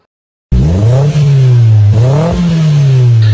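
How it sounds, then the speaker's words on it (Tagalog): A car engine revs loudly through a free-flow muffler with a 2.5-inch inlet, starting abruptly from silence into a deep, steady drone, then rising in two distinct throttle blips before settling back. "Free flow muffler"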